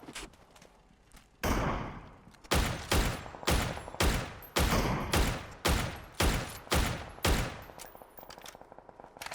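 Rapid bursts of gunfire from the battle-royale video game PUBG, about nine loud evenly spaced shots in quick succession after a brief quieter lead-in, close and dominant.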